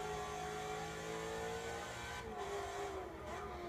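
A Chevrolet Corvette Z06 in the racing game Forza 6 revs hard with a steady, loud engine drone that rises in pitch, heard alone without talk.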